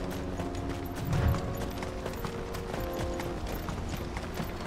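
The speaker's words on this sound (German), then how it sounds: "Ein Pferd." A horse clip-clops in a snowy video game scene, a run of hollow hoof knocks at a steady pace mixed with mechanical clicks and game ambience, with one louder thump early on.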